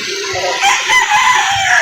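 A rooster crows at a busy chicken market in Lipa City, Batangas, one loud drawn-out call close by.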